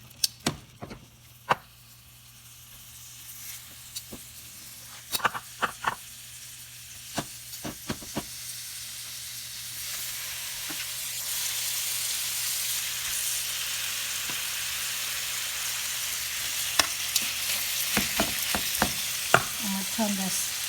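Kabab masala steak fries in a hot pan, starting with scattered clicks and pops, then building into a loud, continuous sizzle and hiss with bursts of crackling near the end. No voices.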